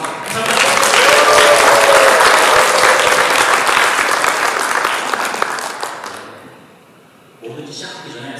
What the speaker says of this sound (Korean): 여러분들의 큰 박수와 함께 힘차게 시작해 보도록 하겠습니다